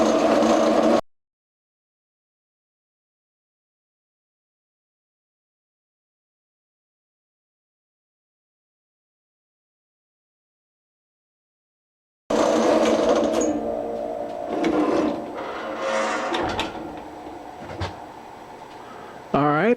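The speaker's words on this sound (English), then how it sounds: "So let's continue and cut this thing through." A saw grinds through a clamped steel piece for an embossing die, making a loud, rhythmic mechanical chatter that stops after a second, leaving a long silence, then resumes up close for the final stretch.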